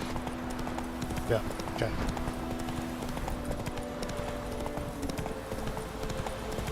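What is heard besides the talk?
horse Roach galloping in video game The Witcher 3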